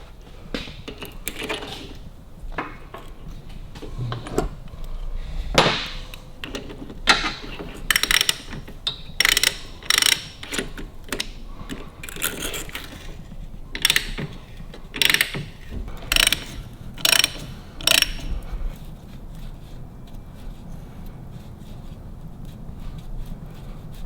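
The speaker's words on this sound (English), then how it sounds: "So let's try a stud remover first, see if that works." Ratchet clicks as a stud remover turns a stuck stud on a Harley-Davidson WLA, with bursts of close, crisp pawl ratcheting in uneven runs throughout and some handling of tools in between.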